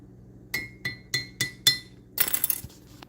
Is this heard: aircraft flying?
no